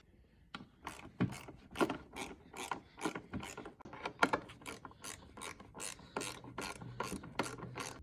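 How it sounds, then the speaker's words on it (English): A ratchet wrench loosens the 10mm seat bolts on a Polaris Axys Switchback snowmobile, giving a steady run of close, crisp clicking strokes that continue for the whole stretch. "We're gonna go ahead and remove the seat, and the seat is just held on by two 10mm bolts."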